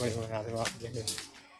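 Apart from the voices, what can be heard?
No everyday noise stands out behind the speech.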